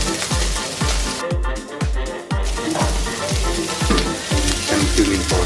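Red chilies sizzle loudly in hot oil in a Nepali hotel kitchen cooking dal bhat, with steady frying hiss and rhythmic scraping strokes of stirring, close up and continuous.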